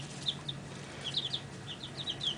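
Chicks kept indoors in a basement give short, high peeping chirps, scattered singly and in quick pairs over a low steady hum, faint and close, with no talking.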